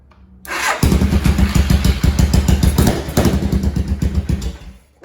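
A Suzuki Savage LS650 motorcycle, its starter solenoid and start button bypassed, cranks briefly and catches, then idles loudly up close with a rapid, pulsing single-cylinder thump that settles slightly toward the end.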